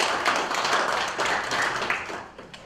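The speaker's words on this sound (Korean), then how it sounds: "큰 박수 부탁드리겠습니다" Audience applause at a housing policy forum on small universal-design homes for wheelchair users, a steady wash of many hands clapping for about three seconds before trailing off slightly at the end.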